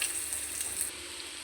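Coconut and grated carrot frying in a pan give off a steady, close sizzle with a constant hiss throughout and no voices.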